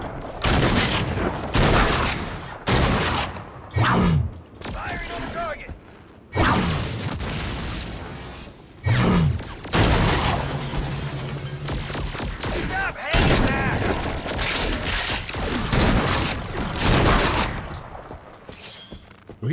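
Agents of Mayhem gunfire: dense, loud volleys of rapid shots and booms in repeated bursts, broken by short pauses, with mechanical clatter between them.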